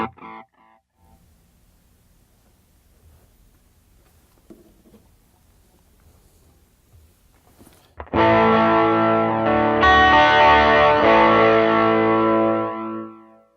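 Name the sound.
electric guitar through Line 6 HX Effects modulated chorus echo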